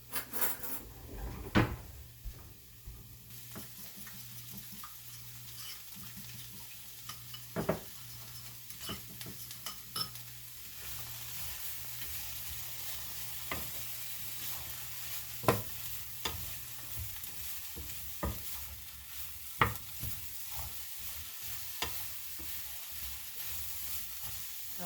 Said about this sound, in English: Now I need to whisk the sauce.